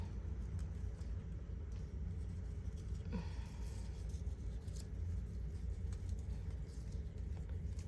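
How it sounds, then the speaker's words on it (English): A low, steady rumble of traffic passing at a distance outside, faint and continuous, with no talking. "You'll have to pardon the cars driving by."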